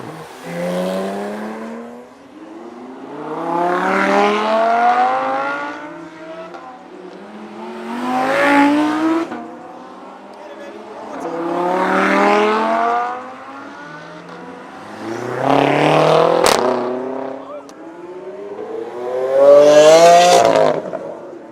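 A GT3 supercar on a Halloween supercar rally run, with a series of loud engine sweeps as the car passes again and again, revving up through the gears and fading away between each pass.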